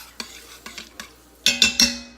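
Metal spoon clinking and scraping against a pan while stirring onions and garlic in melted butter, a string of quick taps followed by three louder ringing knocks, faint sizzle underneath.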